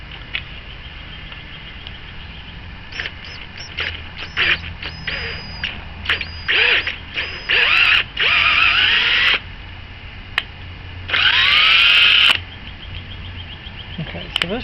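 A drill cuts threads in a valve cover bolt hole on a 2003-2016 Honda Rebel, running in short stop-start bursts of whining that spin up and die away, close by, with longer bursts toward the end.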